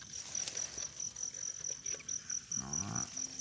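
Crickets chirp steadily at night in a field where people hunt them, a thin rapid trill repeating throughout, with faint rustling and a brief low sound near the end.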